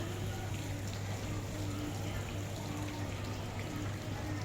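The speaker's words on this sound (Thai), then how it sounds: "ฝนเริ่มจะหยุดแล้วนะคะ" Rain begins to ease in front of a flooded house, a constant soft hiss of falling drops and running water filling the whole stretch at moderate, even loudness.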